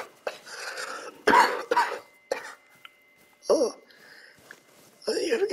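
Several sharp, forceful coughs burst out close by, with throat clearing between them, while people talk and laugh around them.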